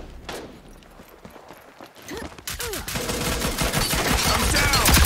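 Shotgun and other gunfire in the Rogue Company shooter game crack out in scattered bursts, then grow into a loud, dense, continuous barrage, with faint footstep-like clatter in the gaps.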